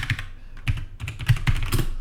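Rapid, steady keystrokes sound on a computer keyboard while code is written, a close, dense run of clicks and taps with no pauses and no speech.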